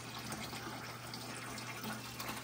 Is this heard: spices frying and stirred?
no